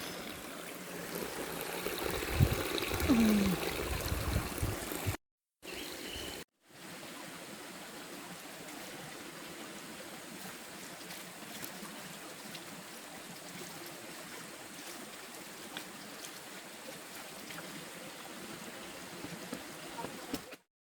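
Spring water runs from a hose with a continuous soft trickle and rush, close and steady. A louder stretch of handling noise and a brief dropout come near the start, and then the flow continues alone.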